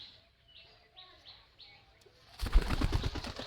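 Homing pigeons flap their wings in a few soft bursts and give faint calls, then a louder rustling flurry of wings and movement close by; no talk.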